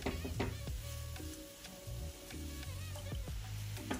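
Bacon-wrapped chicken meatloaf sizzles steadily in a frying pan over a stove flame, a close, continuous crackle punctuated by a few clinks and light stirring knocks, with no one speaking.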